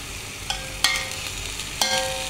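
Stingray curry with coconut milk being stirred in a pan, a steady bubbling sizzle broken by a few sharp scrapes of the spoon against the metal, close and alone.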